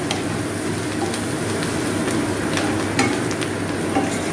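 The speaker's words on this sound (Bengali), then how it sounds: "আর দিচ্ছি গুঁড়ো লঙ্কা এবার আমি এটাকে আবার একটু কষাবো" Small fish sizzle steadily in a pan with turmeric and chili powder, stirred for a Bengali fish jhal, making a continuous close frying hiss with occasional scraping clicks of the spatula.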